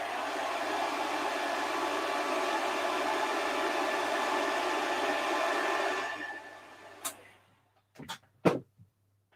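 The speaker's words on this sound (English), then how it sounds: "hairdryer." A hair dryer blows steadily and loudly on a Hoffman core box for about six seconds, then cuts off, leaving a few short knocks and handling sounds.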